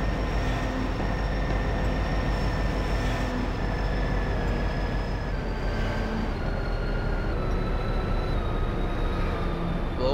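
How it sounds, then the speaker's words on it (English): A train ride in Garry's Mod fills the clip with a steady, loud rumble of rolling rail wheels and a sustained mechanical hum, unbroken for about ten seconds. "Now on a train."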